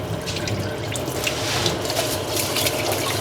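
Tap water runs steadily into a sink while rice is washed for coconut rice, a loud, close, continuous splashing and gurgling with small sloshes of the grains.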